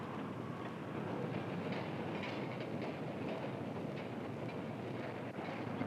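A subway train running along its tracks, recorded on the soundtrack of an old 16mm educational film, as a steady, close rumble with faint rhythmic clatter under a constant hiss.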